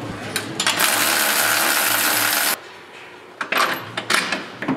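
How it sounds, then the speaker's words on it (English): A 21mm socket on a wrench turns loose the upper shock hardware on a Polaris Pro R, ratcheting in a long continuous run of rapid clicks, then a pause and a few shorter metallic clicks and knocks. "Using the same socket and same wrench, you can now remove the upper hardware"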